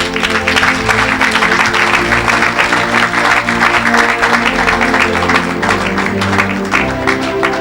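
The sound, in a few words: crowd cheering and applauding in church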